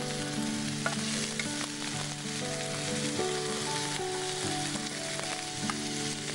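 Bacon sizzling in a pan with garlic and onion on a cooking show, a continuous crackling fry held at an even level, with faint background tones beneath and no talking.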